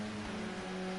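Racing car engine in a modern touring car sim race at Silverstone, a steady droning hum with a held engine tone throughout, moderately loud and alone.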